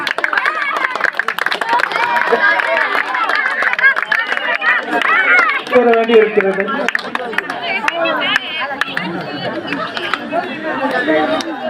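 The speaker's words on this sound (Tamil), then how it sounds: "கைதட்டு கைதட்டுங்கடா போலாம்" A crowd at an outdoor gathering where a statue is garlanded claps in scattered bursts, the sharp claps mixed into loud, overlapping chatter and shouting voices nearby.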